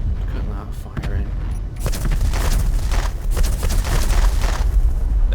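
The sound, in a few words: shotgun battery firing on warship in Space Engineers video game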